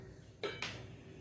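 A pressure cooker being set down on a kitchen surface, two quick close metallic clanks a fraction of a second apart, faint overall and alone without talk.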